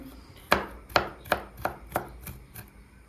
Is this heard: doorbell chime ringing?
no